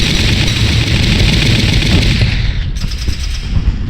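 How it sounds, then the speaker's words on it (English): Loud, dense gunfire from the Valkyria Chronicles video game, with continuous rapid automatic bursts roaring throughout without a break. "Be sure to watch for return fire."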